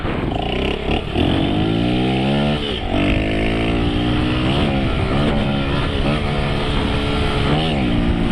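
A motorcycle engine drones loudly and steadily, its pitch sweeping up and down as it passes close by, with a voice faintly underneath.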